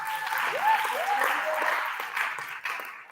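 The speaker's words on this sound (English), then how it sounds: "So let's give one big round of applause for Aiden." Crowd applause at a high school TED-Ed night honors a student, a dense burst of clapping with voices and a whistle-like cheer mixed in, fading toward the end.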